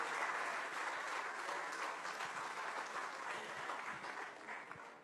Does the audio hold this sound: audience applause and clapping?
yes